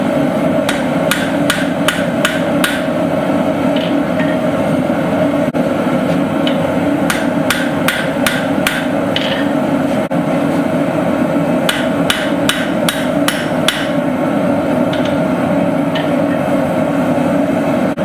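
Iron and steel are being forge welded into a San Mai billet. Repeated loud hammer blows land in quick clusters of about five over a steady roaring forge or blower hum, close by.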